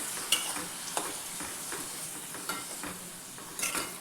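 Tomatoes and salt being stirred in a hot pan, giving a soft, steady sizzle with intermittent scraping strokes of a spoon, close and fairly quiet, with no talking.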